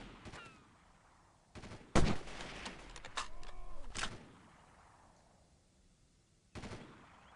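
Gunfire in the video game Delta Force 2, with bursts of automatic fire and sharp shots spread through the stretch, loud cracks around the middle and a final burst near the end.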